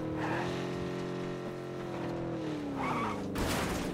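A car drives and skids in the battle royale video game PUBG, with a loud steady engine drone, then a harsh skid and tire scrape near the end.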